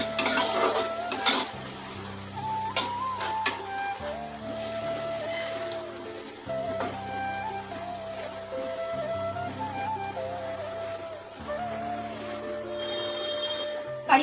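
Onions lightly frying in a pan while being stirred, a low sizzle under repeated scraping and clinking of a utensil against the pan, close, with background music and no talk.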